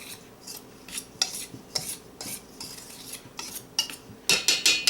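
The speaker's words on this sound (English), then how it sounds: "in a large bowl, go ahead and add the all-purpose flour and the salt. Give that a quick mix." A utensil scrapes and taps against a large bowl while all-purpose flour and salt are mixed for homemade flour tortillas, giving a series of quick, close scraping strokes with no talking.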